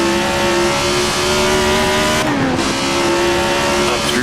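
A Tyrrell 002 race car in Assetto Corsa screams loudly up through the gears, its engine tone climbing steadily, dipping briefly at a gear change, then rising again, loud and continuous with no talk.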